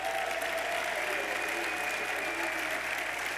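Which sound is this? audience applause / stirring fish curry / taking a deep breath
audience applause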